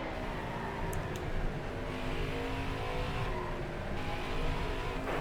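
Race cars at Bristol in the NASCAR Heat 5 video game, a steady loud engine drone with harmonic whine that stays close and continuous throughout, with slight swells as the pack runs together.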